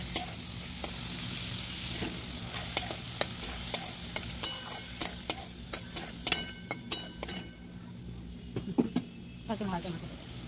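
Spice masala with Kashmiri red chilli powder frying in a pan for a boiled egg dish, a steady close sizzle with repeated sharp clicks of a spoon stirring and scraping against the pan.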